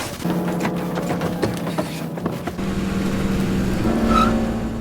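A car is driven off in a drama series scene: the engine revs and pulls away with a rising, growling tone and brief rattles, fairly close, with no talking.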